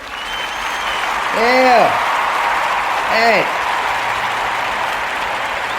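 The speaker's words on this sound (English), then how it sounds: "Gotta give Mary J a round of applause." A burst of applause hisses steadily throughout. A voice calls out briefly twice over the clapping.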